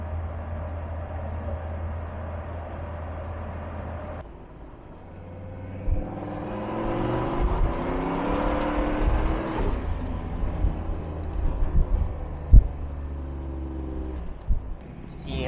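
A car engine labouring up a hill: steady low drone that dips, then builds into a rising, straining rumble with faint whine, followed by uneven knocks and bumps, close and moderately loud with no talking.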